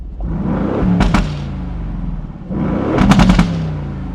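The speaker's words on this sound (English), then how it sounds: "when your car sounds like this" An Aston Martin supercar engine revs twice, each a loud, throaty roar that swells and fades, topped by sharp crackling pops from the exhaust, heard close with a deep rumble continuing between the bursts.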